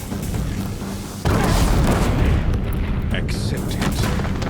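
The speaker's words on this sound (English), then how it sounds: "If the Deathbringers keep firing, this bridge will go." Deathbringer war machines fire heavy booming shots in Horizon Zero Dawn, loud rolling blasts and rumble over a bridge, with a voice speaking over the battle.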